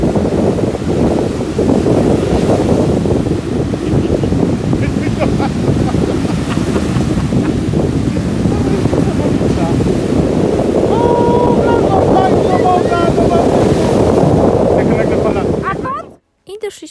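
Strong wind buffets the microphone over a constant roar of surf on an empty Polish Baltic Sea beach, loud and unbroken until a sudden cutoff at the end.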